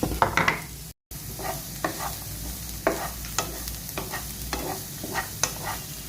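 Two onions sauté in a pan for paneer butter masala. A spoon scrapes the pan in repeated irregular strokes over a steady, quiet sizzle.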